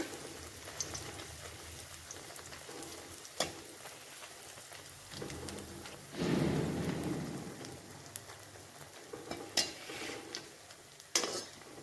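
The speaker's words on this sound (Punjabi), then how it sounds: "ਹੁਣ ਦੂਸਰੇ ਪੀਸਾਂ ਨੂੰ ਵੀ ਵਿੱਚ ਪਾ ਕੇ ਇਦਾਂ ਹੀ ਫਰਾਈ ਕਰ ਲਵਾਂਗੇ" Pieces of food fry in a pan of oil with a soft, steady sizzle and crackle that briefly swells louder partway through, with a few clinks of utensils.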